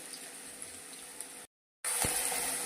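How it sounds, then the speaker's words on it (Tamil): Onions sautéing in a pan for Indian-style pepper chicken give a steady, close hiss of frying that cuts out briefly and then returns louder and brighter. "நல்லா வெங்காயம் வதங்கிட்டு இருக்குதுங்க"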